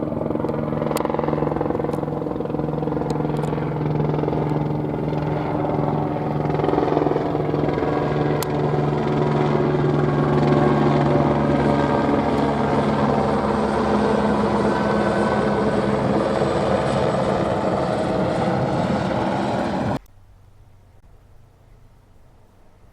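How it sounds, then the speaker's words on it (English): A police helicopter flying overhead in Los Angeles, a steady loud rotor drone that holds for about twenty seconds alone and then cuts off abruptly. "Police helicopter flying over this area."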